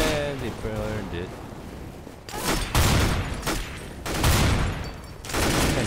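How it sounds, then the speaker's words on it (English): Shotgun blasts in CS:GO ring out in several loud bursts over the second half, with excited voices talking over the game audio before and between the shots. "Shotgun! Let's try it."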